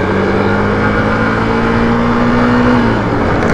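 A motorcycle engine drones loudly and steadily for several seconds, its pitch rising slightly and then dropping near the end as it runs close by, with no talking.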